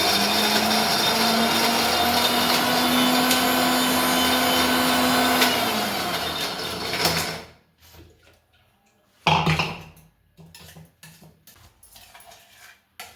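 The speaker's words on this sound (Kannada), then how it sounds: "ಇವಾಗ ಮಿಕ್ಸಿ ಮಾಡ್ಕೊಳ್ಳೋಣ." A mixer grinder whirs loudly and steadily as it blends wood apple pulp with jaggery and a pod of cardamom, then stops abruptly, followed by a brief second burst and quiet clinks of the jar.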